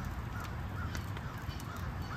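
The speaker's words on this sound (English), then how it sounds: "there's crows over there behind my sisters" Distant crows caw a few times, faint and spaced out, over a constant outdoor background rumble.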